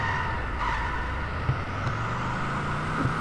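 Steady engine drone of a car driven in The Simpsons Hit and Run video game, continuous with faint tonal hum and small bumps, no talking.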